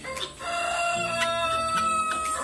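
Chickens cluck steadily close by while a rooster crows, its drawn-out call standing out over the busy flock.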